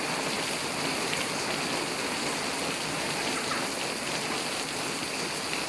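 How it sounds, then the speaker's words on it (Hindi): Heavy rain pours down steadily in Kharian, a dense, continuous hiss of drops striking surfaces with running water, loud and unbroken from start to finish. "ये देखें बहुत तेज़ बारिश है"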